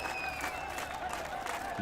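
A crowd applauds in a Telugu film scene, a dense, steady wash of many hands clapping at moderate volume with no pause.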